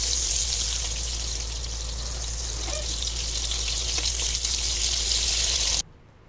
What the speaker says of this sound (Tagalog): ikakaramelize muna natin yung sibuyas